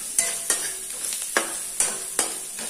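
A spoon scrapes and stirs turmeric and salt through sizzling oil in a pan, giving a steady frying hiss broken by about six rhythmic scraping strokes.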